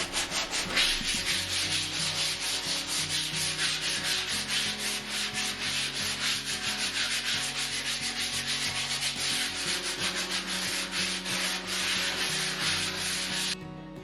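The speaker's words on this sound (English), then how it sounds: "I needed to sand down all the walls due to the painting technique used in the late 1990s by the previous owners." Textured painted walls, the paint mixed with grit, are sanded by hand in a long run of rapid back-and-forth rubbing strokes, close and steady, then stopping abruptly near the end.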